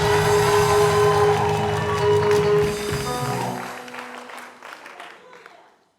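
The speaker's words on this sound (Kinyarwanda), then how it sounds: "mukomere Imana amashyi" A church congregation clapping together in a dense burst of applause that fades out over a few seconds, with voices mixed in beneath.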